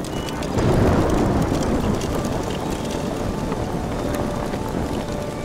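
Steady, dense rain pours in an animated cartoon scene, a loud continuous wash of falling water that swells slightly near the start and then holds evenly, with no voices over it.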